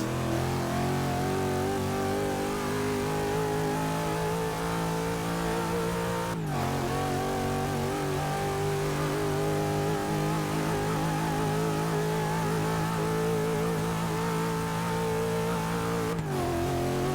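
A Pontiac Aztek's engine revs hard and accelerates in a Forza 6 speed test, a loud steady drone climbing in pitch, with two brief breaks where gear shifts occur, and no talking.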